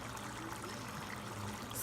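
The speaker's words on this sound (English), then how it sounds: "I'm gonna dump it into the pot and try to create my sauce." Water is poured from a container into a pot of Sierra Leone peanut butter soup. A steady, close pouring and gurgling stream fills the short moment without pause.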